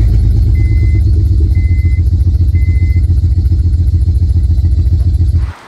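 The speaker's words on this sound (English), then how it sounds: "at low RPM when you rev it, it's really shaky here" A 2006 Honda Pilot SUV engine with a cylinder misfire idles roughly and pulses unevenly at low RPM, a loud close throbbing chug that runs steadily before cutting off abruptly.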